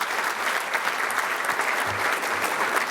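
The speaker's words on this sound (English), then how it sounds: "So let's give Fred and Steve a round of applause for all they've done" A room full of guests at a sports breakfast gives a round of applause, dense continuous clapping that stays even and full from start to finish.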